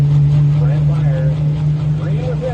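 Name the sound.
pro stock pulling tractor engine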